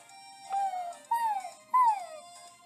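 A cartoonish dog in the video game Imagine: Master Chef gives three short, rising-then-falling whimpering yips, evenly spaced and clear against a quiet background, with no talk.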